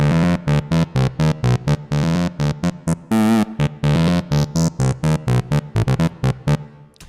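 A staccato synth melody of short repeated notes with a wavering vibrato, bright and close, playing alone without any talk.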